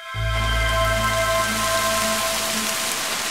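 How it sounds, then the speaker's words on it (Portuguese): Steady rain falls in a continuous dense hiss, loud and close, with a faint droning tone underneath and no voices. "Com a chegada das chuvas"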